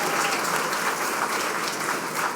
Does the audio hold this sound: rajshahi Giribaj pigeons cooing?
no